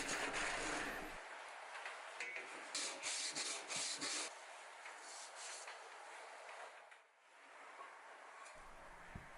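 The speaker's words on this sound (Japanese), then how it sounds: "珪藻土レンガということで、ノコギリで簡単に切ることができます。" A hand saw cuts through a lightweight diatomaceous-earth firebrick meant for an indoor rocket stove, giving a steady, close, dry rasping scrape with rhythmic strokes for most of the stretch and no talking.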